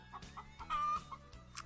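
A chicken clucks in short repeated bursts in Agricultural Simulator 2013, a pig-and-poultry farm game, with a higher drawn-out call in the middle; the sound is close, fairly quiet and has no talk over it.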